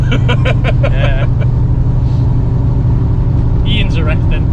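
A V8 American muscle car engine runs with a loud, constant low rumble throughout, while people talk excitedly over it at close range.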